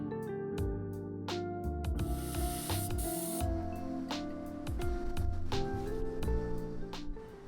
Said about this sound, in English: I recommend cleaning the wheel speed sensor with brake cleaner.